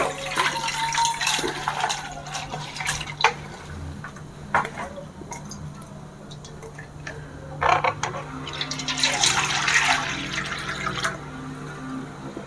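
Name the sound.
water and dal being poured into a pressure cooker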